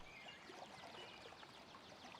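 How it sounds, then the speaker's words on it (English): Well water in the Thrive: Heavy Lies The Crown city builder, rushing steadily like a river, a continuous faint flowing wash with soft splashy trickles throughout. "I like how the well sounds like a running river"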